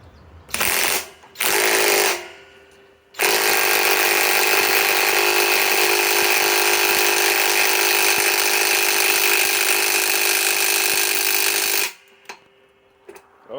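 A Flex 1451 mid-torque cordless impact wrench on a 3.5 amp stacked lithium battery, set to speed 3, tightening a large 1 1/2 inch nut: two short bursts, then a long, loud, steady hammering run of about nine seconds, then a few brief taps.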